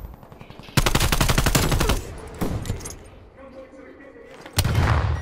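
Fast bursts of AK rifle fire in a 4v4 competitive online shooter match on the CrossRoad map, loud and rapid, with a later burst near the end and players talking and reacting in between.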